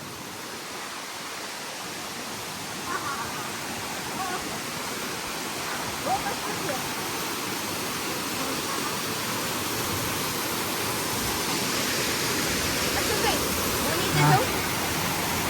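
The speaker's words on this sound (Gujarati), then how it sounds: "ધોધ જોઈ લીધો, હવે ઝરણા જોવાનો વારો આવ્યો." A forest stream flowing near a waterfall, a steady broad rushing wash of water throughout, soft and even, with faint voices and small knocks occasionally above it.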